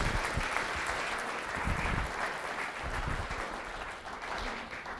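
Sustained applause from a lecture audience welcoming a professor onto the stage, steady dense clapping filling the room for several seconds, fairly loud and continuous with no talk over it.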